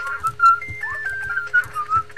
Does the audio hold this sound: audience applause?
no